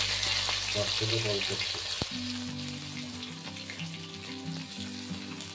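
Chicken cooking homestyle in a pan with potatoes that were fried first, giving a loud, steady sizzle and frying hiss, with stirring near the start and a low hum underneath.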